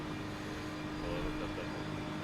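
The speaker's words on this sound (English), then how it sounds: "My engine's really loud, sorry." A BMW M4 GT3 racing car engine in the iRacing video game at the Nürburgring hums continuously at moderate volume, with no change in pitch.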